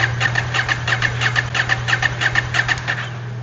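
A KTM 790/890 Adventure motorcycle with a hard-start, single-cylinder problem cranks over with a quick, rhythmic chugging pulse above a steady low hum, loud and close throughout.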